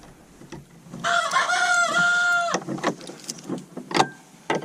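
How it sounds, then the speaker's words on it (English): A rooster crows once, loud and close, a long drawn-out call lasting over a second, followed by quieter clucking and rustling. "That's a lot of noise for a chicken to make."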